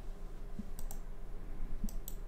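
Mouse clicks on the play button in Unreal Engine 5: two pairs of quick, crisp, close clicks about a second apart over a quiet room hum.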